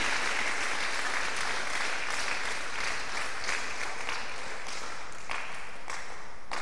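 Congregation applauding in a church service, a steady dense clapping that fills the room without pause, loud and sustained with no talk over it.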